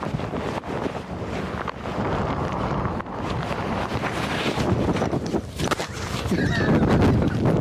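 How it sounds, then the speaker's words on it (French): Strong gusts over 100 km/h buffet the microphone outdoors in Scotland, a loud, rough, surging roar that rises and falls throughout, with faint voices partly buried beneath. "Ce sont des rafales enregistrées à plus de 100 km/h que nous affrontons aujourd'hui"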